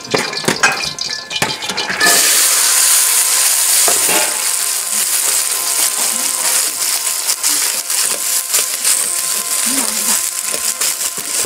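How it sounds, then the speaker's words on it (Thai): Pea eggplants stir-fry in hot oil in a pan, a loud steady sizzle with scraping and stirring clatter close up after a brief clatter of preparation at the start. "ตอนนี้เขาคั่วน้ำมันท่าแล้ว"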